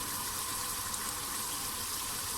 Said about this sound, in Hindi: अब इसके अंदर मैं पानी शामिल करूँगी